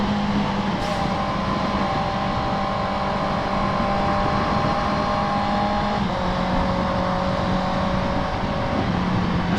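A Honda CB650R big bike cruises on an expressway, its engine giving a steady droning hum with wind rush and a slight pitch shift partway through, continuous and close.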